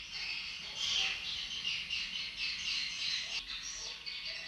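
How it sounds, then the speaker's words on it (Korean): Recorded bird calls play over a loudspeaker at a swallow nesting house in Thailand to attract swallows, a continuous dense twittering of chirps at steady volume. "제비를 부른다는 새소리를 틀어놓은"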